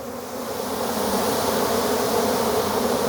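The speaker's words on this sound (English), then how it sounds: "Jeez Louise, these bees." A swarm of honey bees buzzes loudly and steadily around an opened hive during a hive inspection, a dense, continuous drone with no voices.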